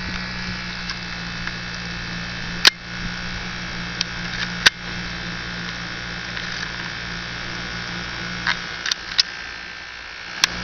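Snap Circuits toy fan motors spinning in a triple fan setup with a lamp give a steady close electric buzz and hum, broken by a few sharp clicks.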